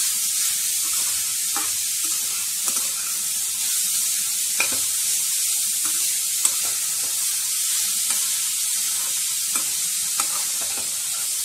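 Grated carrot fries in ghee for carrot halwa, a steady close sizzle broken by regular soft scrapes and taps of a spoon stirring the pan, with no talking.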